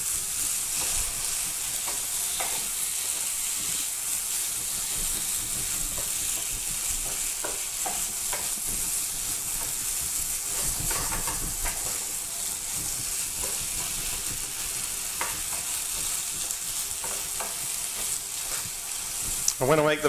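Vegetables sizzle steadily in a hot pan with Indian spices while being stirred, with a continuous frying hiss and occasional scraping and clinking from the utensil, close and moderately loud throughout.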